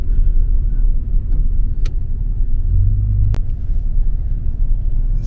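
A tow truck drives along the highway, its engine rumbling low and steady with constant road noise, close and continuous throughout.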